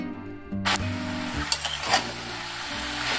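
Chopped tomatoes, green chillies and spices stir-fried in a pan for a cauliflower-stem chorchori, with a steady sizzle broken by scraping stirs and spatula knocks. No one speaks.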